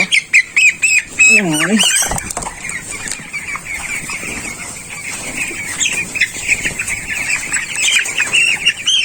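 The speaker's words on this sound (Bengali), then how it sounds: "দুটা ছোট মুরগি ধরবো" Small 17-day-old broiler chickens squawk and cheep loudly as they are caught, with a sharp distressed squawk up close over a constant din of many birds chirping in the shed.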